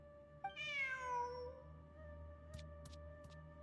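A single drawn-out cat meow from a kitty in the Genshin Impact video game, clear and fairly close, rising then trailing off over a low steady game-music hum, with a few faint clicks afterward.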